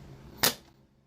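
An Ares Stryker airsoft sniper rifle fires a single shot through a chronograph, one sharp close crack that fades quickly in a quiet room.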